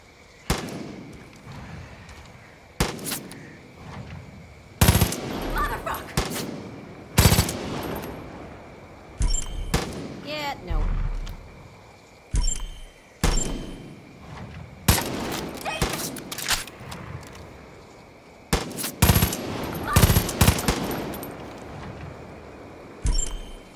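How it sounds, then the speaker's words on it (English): Repeated loud gunshots and short bursts of fire while shooting down vultures in Far Cry 5, sharp cracks spaced a second or two apart, some clustered, over a low game background. "Shoot down those vultures."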